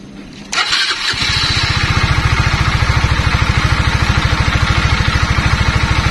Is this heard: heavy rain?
no